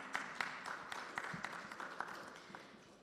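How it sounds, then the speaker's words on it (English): Faint, scattered clapping from an audience at a community tourism seminar, a thin patter of individual hands heard from a distance for a few seconds. "Yes, a round of applause."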